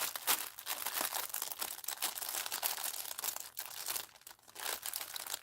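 A well-taped mail package being opened, close crackling and crinkling of tape and wrapping with bursts of tearing, no voices.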